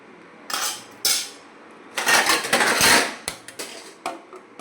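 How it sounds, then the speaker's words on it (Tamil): A spoon scraping and clinking against a pot while carrot kulambu is stirred, a few sharp metallic knocks followed by a longer grinding scrape and lighter taps, close and alone. "போட்டு இதை நல்லா கிண்டிக்கிடுவோம்."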